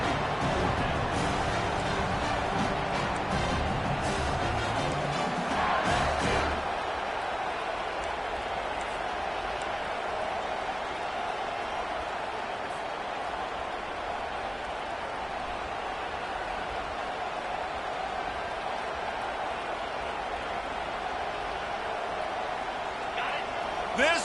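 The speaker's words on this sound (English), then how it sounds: "This crowd busting the decibel meter and trying to will a fourth down stop." A stadium crowd roars at an LSU college football game during a fourth-down defensive stand, a dense wall of noise that is loudest for the first few seconds and then settles into a sustained roar.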